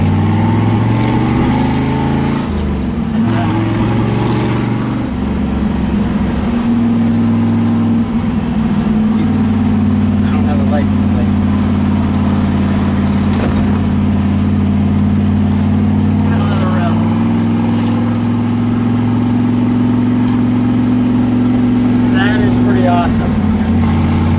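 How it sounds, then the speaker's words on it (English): A 1960 Cunningham Corvette race car, the class winner at Le Mans, drones steadily up close from the cabin, its engine note rising and falling gently under continuous conversation between occupants. "Driving the Corvette that won its class at Le Mans."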